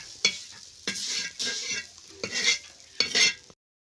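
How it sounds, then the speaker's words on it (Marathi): Red-fried onions for a sesame curry are stirred and scooped from a frying pan in several close, distinct scraping strokes over a soft sizzle, with no talking. "कांदे व्यवस्थित लाल भाजून मस्तपैकी आता ते काढून घ्यायचं काम चालू आहे"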